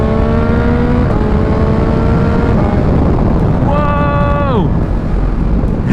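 A Yamaha XSR900 motorcycle with a quick shifter pulling hard through the gears, a loud rising engine whine with a quick shift partway through and another sharp climb, all over heavy wind rush.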